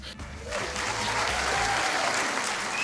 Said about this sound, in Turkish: buraya bir alkış efekti koyarım ben